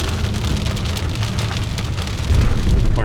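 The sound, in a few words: heavy rain falling in the woods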